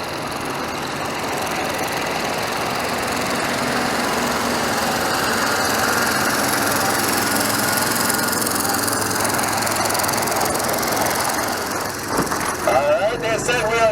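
An antique tractor engine runs at a tractor pull at a spring festival, a loud continuous chugging roar that holds steady and then rises toward the end amid crowd noise and talking.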